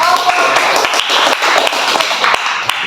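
A classroom group claps for a student group after its presentation, a loud, close run of quick, uneven hand claps from a small crowd with some voices mixed in.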